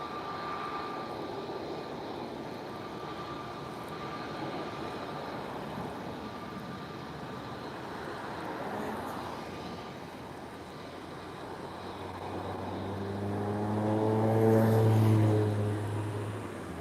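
Airliner landing at Lisbon Airport on a cloudy, windy evening, a broad jet roar rising gradually to a loud close pass near the end, with engine whine and a sweeping tonal hum over steady wind.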